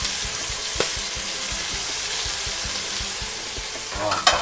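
Eel stir-fried in a spicy Thai-style pan dish: steady loud sizzling with a rapid, regular scraping of the spatula against the pan, a couple of sharper knocks near the end.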